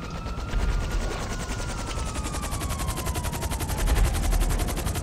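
Cargobob helicopter in GTA 5 Online, its rotor thumping in a fast, steady rhythm close by, with bursts of gunfire mixed in and a falling whine running underneath.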